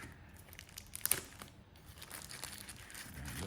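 A small sealed plastic bag from a DJI Osmo Mobile 6 unboxing is handled and crinkled up close, with soft rustling and a brief sharper crackle burst partway through.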